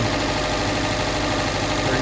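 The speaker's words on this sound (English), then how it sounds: "Okay, so engine running here" A car engine idles at about 34 PSI fuel pressure, a steady, dense, close mechanical rumble with even pulsing and no talking.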